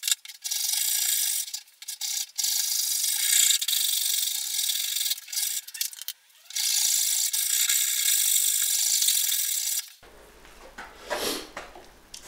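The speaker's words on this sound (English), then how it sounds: "Now for this shaping I'm using the rough side of the rasp and it is really rough." The rough side of a rasp shapes a wooden Thinline Telecaster guitar body in steady, scratchy back-and-forth strokes, close and fairly quiet, with brief pauses between passes.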